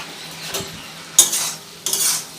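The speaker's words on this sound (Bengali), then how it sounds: "এবার ঢাকা চাপাটা খুলে দেখে নেব" A lid comes off a pot of simmering sugar syrup for watermelon-rind tutti frutti, giving a few sharp metallic clinks and short bursts of hiss, close and with no talking.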